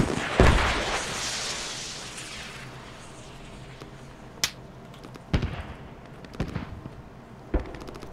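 Artillery guns firing in the war video game Squad: a heavy opening boom with a long rolling decay, then four sharper, separated blasts spaced about a second apart, with no talk.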